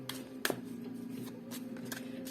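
Santa Muerte tarot cards being shuffled and laid out by hand, with soft riffling and a few sharper card slaps, close and continuous over a low background hum.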